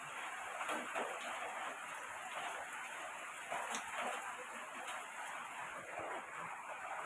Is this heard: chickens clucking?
no